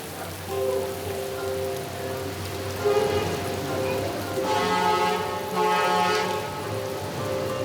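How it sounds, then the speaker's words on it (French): Steady rain falls on a mountain road in Tibet, a dense continuous patter with a low engine hum and faint tonal sounds beneath it. "Le lendemain matin, il pleut toujours."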